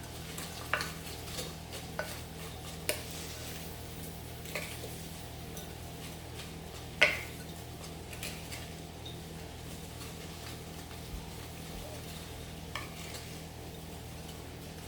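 Food stirred in a pan with a low, steady frying hiss and a steady hum under it, broken by sparse, faint scrapes and taps and one sharper knock.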